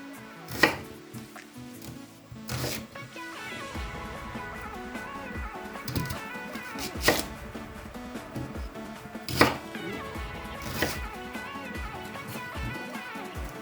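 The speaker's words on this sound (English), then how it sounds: "Here I go ahead and start prepping my onions." Red and white onions being chopped on a board, a run of sharp knife strikes at an uneven pace with a few louder cuts standing out, over quiet background music.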